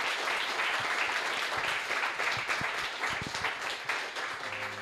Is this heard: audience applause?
yes